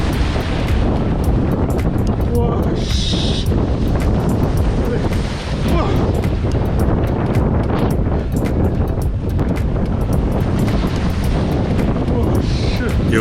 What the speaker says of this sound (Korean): 오늘 파도가 화가 엄청 났습니다